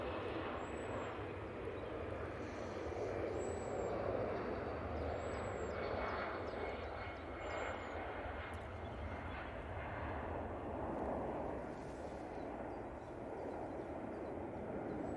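A Eurowings A320 airliner departs Manchester Airport for Dusseldorf as a faint, distant jet rumble that swells gently and fades, while small birds chirp in repeated short calls above it.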